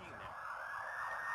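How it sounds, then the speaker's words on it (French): Ambulance siren wails steadily and loudly, filling the short stretch with a continuous rising-and-falling tone and no voices. "L'ambulance arrive?"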